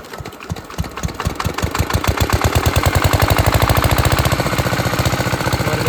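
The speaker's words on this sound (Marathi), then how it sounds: "हे जुन्या काळातलं इंजन आहे," An old diesel engine driving a water pump at a well chugs loudly and close by, its rhythmic thumps quickening after starting and then settling into a steady, pounding beat.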